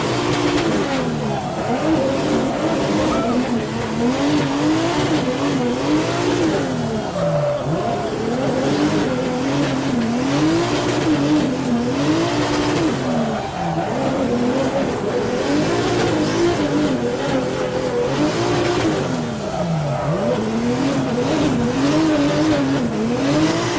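Nissan S14 fitted with a Toyota JZ engine driven hard, its engine note rising and falling steadily through repeated revs, with tires squealing intermittently through the corners.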